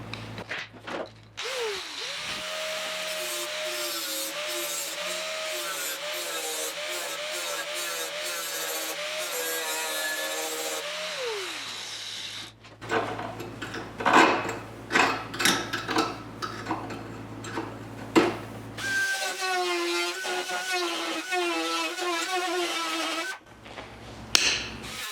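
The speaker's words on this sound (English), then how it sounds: "This will have to grind." Grinding on a 1972 Triumph GT6 door: a close, steady power-tool whine runs in long passes that break off, then resume with rougher, gritty contact noise and shifting pitch.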